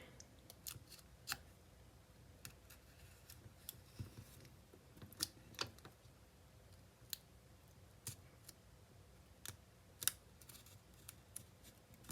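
Scissors slowly cut out a scope cap dope sheet, giving sparse, crisp snips and clicks at irregular intervals over a quiet background.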